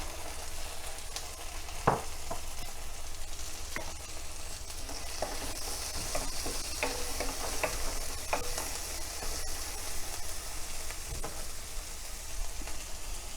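Chopped tomato hisses in hot oil in a pan during a fish-head and cabbage curry, a steady close sizzle broken by occasional scrapes and clicks of stirring.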